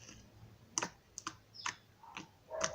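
Glossy homemade slime is squished and pressed close to the microphone, giving a handful of sharp, irregularly spaced clicks and pops over a quiet background.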